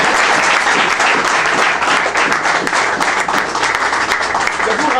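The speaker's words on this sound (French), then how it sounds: "Est-ce qu'on peut l'applaudir un peu?" An audience applauds a speaker in a hall, sustained dense clapping from many hands, loud and continuous for several seconds with a slight dip midway.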